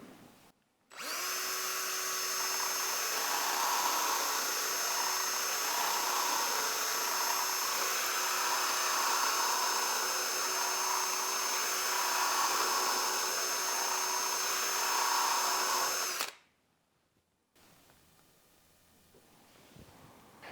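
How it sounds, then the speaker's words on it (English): A carbide stud sharpening tool grinds a stud with a steady, high-pitched power-tool whine that holds for about fifteen seconds, then cuts off abruptly and leaves quiet background; close and loud, with no talking. "The second stage is to back the tool off and go around and just blend the carbide in with the host material to give you a nice sharp tip."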